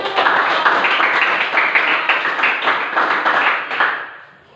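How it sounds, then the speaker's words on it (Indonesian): A classroom of students clapping during a teacher-training lesson: a dense, steady round of many hands at close range, holding for about four seconds before fading out at the end. "Iya, kita tepuk tangan dulu."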